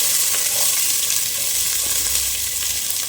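Small onions sizzling in hot oil with dried red chillies in a pan for fried fish curry, a steady bright hiss running close and continuous without speech.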